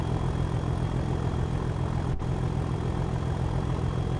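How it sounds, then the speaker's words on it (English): A steady, droning Class 37 diesel locomotive engine in Train Sim World 4 idles continuously with a low rumble and a faint high whine, unchanging throughout. "This is a Class 37, so it's got an older engine in it."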